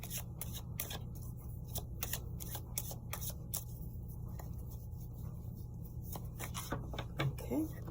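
Tarot cards are shuffled by hand in a rapid series of crisp riffles and flutters. Close and moderately loud bursts repeat in an uneven rhythm, with short pauses between them.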